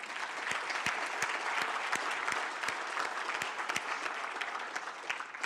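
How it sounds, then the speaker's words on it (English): Steady applause from an audience at a city state-of-the-city address, sustained dense clapping with a few sharper individual claps standing out, moderately distant and fairly soft. "So let's give her a round of applause"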